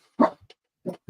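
A dog barks once loudly, then gives two shorter, softer barks a moment later, close and clear.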